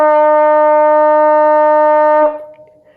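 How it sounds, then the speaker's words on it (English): A trumpet holds a steady, bright sustained E for about two seconds, loud and close, then cuts off and the sound decays into the room. "You hold your trumpet up, and here is E."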